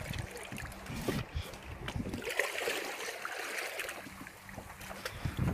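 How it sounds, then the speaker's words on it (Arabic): Sea water washing and lapping with wind blowing outdoors, a continuous textured rush at moderate level with occasional gusts and splashes. "هذا البحر شوفه"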